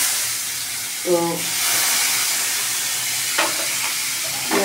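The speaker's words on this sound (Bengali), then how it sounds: "এবার এই দেখো পেঁয়াজটা দিয়ে দেবো তেলের মধ্যে, পেঁয়াজটা তেলের মধ্যে দিয়ে দেবো।" Onion pieces frying in oil in a pan in a home kitchen give a steady, close sizzling hiss throughout, with a few short clinks and a brief voice partway through.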